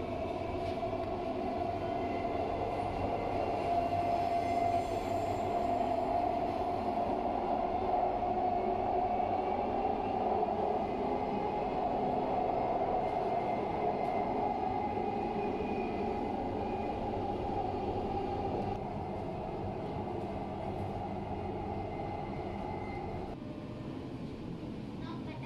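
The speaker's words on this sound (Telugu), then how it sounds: "ఇదండి దుబాయ్లో మెట్రో జర్నీ." A Dubai Metro train runs along its line with a steady, loud rumble and a sustained mid-pitched whine that holds throughout, heard from inside the carriage, easing slightly toward the end.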